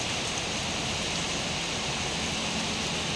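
Steady morning rain falls over a durian orchard in Ban Noen, a dense, even hiss of drops that fills the whole stretch without letting up and carries no voices.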